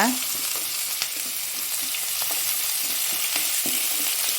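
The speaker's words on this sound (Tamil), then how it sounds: "இது 3ஐயும் வந்து நான் கட் பண்ணி வச்சுருக்கேன். இதையும் வந்து நல்லா வதக்கிக்கோங்க." Chopped onion, green chillies and curry leaves sauté in a hot pan of oil, giving a steady, soft sizzle and crackle with faint stirring scrapes, alone without talk.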